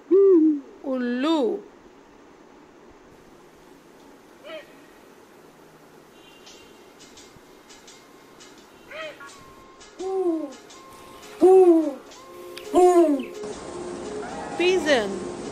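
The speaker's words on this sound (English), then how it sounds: "Owl." An owl gives a series of deep, hollow hoots, loud and close, in irregular bursts with quiet gaps between them, and some thinner bird notes mixed in later.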